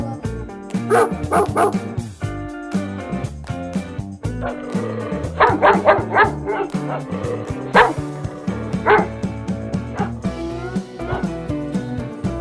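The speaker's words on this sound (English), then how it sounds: "D for dog." A dog barks in short repeated yips and woofs over a bright musical backing, the barks recurring throughout at moderate loudness.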